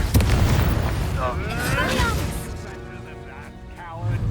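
Confringo blast spell from Hogwarts Legacy going off: a heavy boom at the outset with rumbling, crashing debris and a swirling magical whoosh, then another thump near the end, with speech mixed in.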